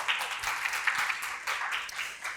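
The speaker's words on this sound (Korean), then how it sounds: "큰 박수로 다시 한번 맞아주세요." Audience at a Korean post-screening talk event for a Cannes-featured film program applauds steadily throughout, a dense, continuous patter of many hands filling the room with no speech over it.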